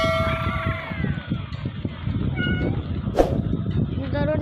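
Cat meows from a cat escape video game, a few short mews rising out of a busy bed of game music and effects, with a voice talking over much of it.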